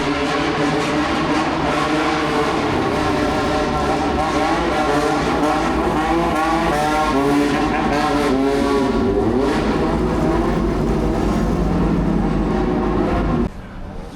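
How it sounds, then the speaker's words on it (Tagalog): Several cars revving their exhausts on a street in Japan during a Nara-Kyoto day tour, a loud, continuous blaring engine roar with rising and falling revs and overlapping harmonic sweeps, nearby and sustained before dropping off abruptly at the end. "Hindi, kasi nilalaro nila exhaust nila."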